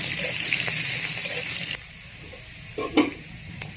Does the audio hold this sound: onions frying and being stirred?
yes